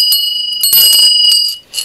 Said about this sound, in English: my wife loves bells, and this is a bell